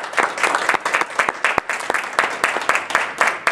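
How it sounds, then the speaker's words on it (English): Applause breaks out for children receiving school awards at a ceremony, a steady burst of many hands clapping together that fills the room for several seconds, with no one speaking over it. "So let's give the children another round of applause."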